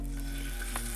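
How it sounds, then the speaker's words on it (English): Chicken pan frying over medium-high heat for pad Thai, a steady close sizzle over a low constant hum, with a brief scrape near the end. "We are pan frying the chicken."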